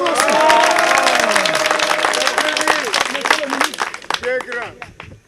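An audience at a Gabonese event on modern agriculture gives loud, sustained applause that thins out toward the end, with voices and some cheering mixed in.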